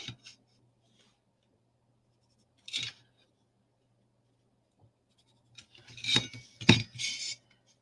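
Scissors snip through the paper handle of a handmade minibook in a few brief, crisp cuts, one near the start and a quick cluster toward the end, close up in an otherwise quiet room.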